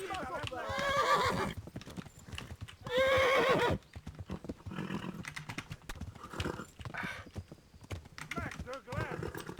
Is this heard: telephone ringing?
no